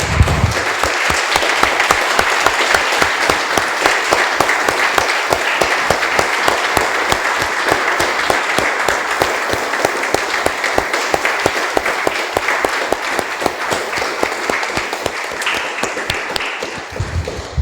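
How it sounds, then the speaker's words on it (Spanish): A church congregation bursts into sustained applause, dense rapid clapping from many hands filling the space steadily for the whole stretch with no talk over it. "Damos un aplauso, hermanos, al Señor."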